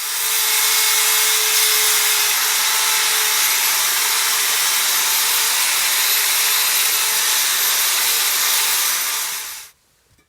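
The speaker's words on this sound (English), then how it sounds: "I'm going to go ahead and use a wire wheel and a drill and just kind of go over it" A wire wheel spun by a drill scours an intake plenum, a loud, steady hissing whir that runs without a break for about ten seconds before stopping abruptly.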